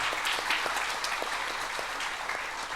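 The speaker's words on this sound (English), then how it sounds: "kindly acknowledge their time, their knowledge with a huge round of applause" An audience at a professional branch event gives a sustained round of applause, dense and even with occasional sharper individual claps standing out, moderately distant.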